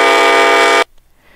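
A loud, steady two-tone train horn sample for the Trainz railway simulator, sounding alone for nearly a second and then cutting off abruptly into near silence.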